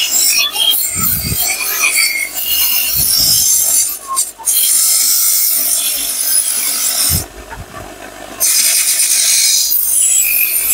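Machine polishing of Dokra brass castings in a village workshop, scrubbing away leftover clay: a continuous abrasive rubbing and rasping, loud and close, with brief drops and pauses between passes.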